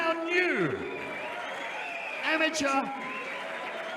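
Crowd applauding a new strawweight champion at an XFC fight night, heard as faint, thin clapping under an announcer's loud amplified voice.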